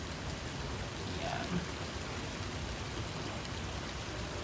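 Heavy rain after a thunderstorm pours steadily over flooded streets in Westland, Michigan, an even dense hiss with one brief spoken word.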